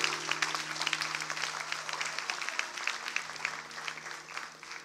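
Applause fills a church as the congregation claps quickly and irregularly, at moderate volume and slightly distant, over a faint steady hum.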